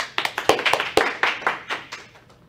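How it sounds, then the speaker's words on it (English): Clapping for lecturers at the close of a colon cancer screening webinar, a handful of sharp, close claps from one or a few people that quickly thin out and fade within a couple of seconds. "Let us all give them a big round of applause."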